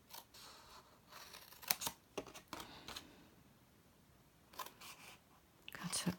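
Scissors cut paper gift tags in a series of quiet, close, crisp snips and clicks, clustered in two groups with a short lull between them, and no talking.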